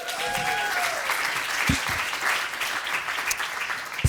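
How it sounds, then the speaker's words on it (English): Warm audience applause at a comedy show at a zero waste festival, a steady, even patter of many hands with a brief whoop near the start. "And keep that warm applause going for your wonderful host, Diane."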